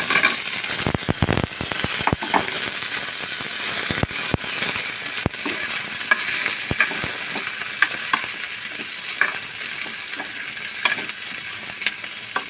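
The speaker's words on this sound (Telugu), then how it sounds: "ఉల్లిపాయలు వేయించుకుందాం" Onions and dried red chillies fry in hot oil in a pan, a bright crackling sizzle with sharp pops and spatters scattered throughout and occasional stirring, heard up close without talk.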